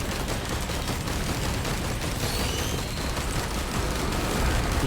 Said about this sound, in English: we're going to go ahead and hit the Gatling gun and take this dude down.